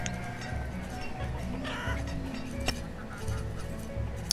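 Chickens in the video game Banished cluck and murmur in short repeated bursts over a busy background hum, with a brief honk-like call in the middle.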